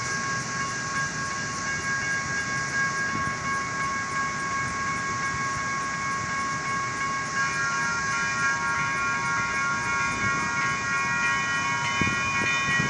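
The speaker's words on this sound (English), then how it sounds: "Downtown train arriving at 59th Street." A Sacramento RT light rail train arrives at the 59th Street station, a steady rumble of wheels on rails with high sustained tones, fairly close and continuous throughout.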